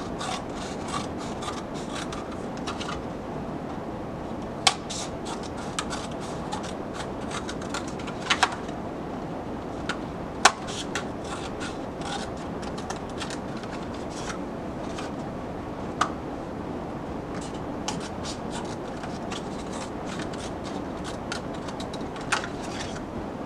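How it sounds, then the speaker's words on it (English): A blade rasps steadily through the material of a cup, a continuous scraping cut with a few sharper clicks and snaps along the way, close by with no talking. "We'll cut up to that particular line."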